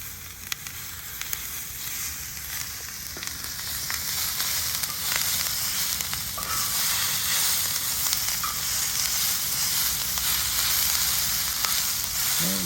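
Leftover fajita meat and vegetables fry in a very hot carbon steel biscuit pan, a steady close sizzle and crackle running the full length with occasional scrape and stir sounds as the food is kept moving.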